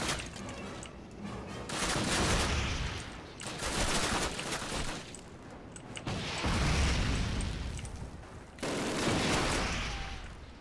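Bursts of Call of Duty gunfire with explosive booms come in several loud waves, with sustained rattling volleys separated by brief lulls and no speech.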